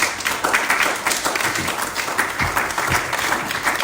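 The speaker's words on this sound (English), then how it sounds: "If you are clapping, you can do better." Audience applause at a sales bootcamp event, a dense steady patter of many hands clapping throughout, fairly loud and close with no talk over it.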